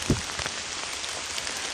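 Steady rain pattering outdoors in the woods near a small stick structure, a close, dense hiss of drops with a few louder taps nearby, and no voices.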